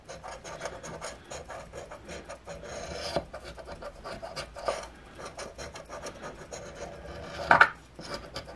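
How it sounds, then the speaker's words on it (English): A thick latex coating is scraped off a lottery scratch ticket in close, rapid, raspy strokes with short pauses, ending in a louder scrape near the end. "this is not my favorite kind of ticket to scratch. It's got this thick latex coating that is like taking off house paint"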